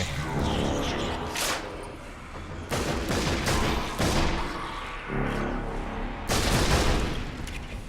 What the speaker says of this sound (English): Those 3 shots were definitely unnecessary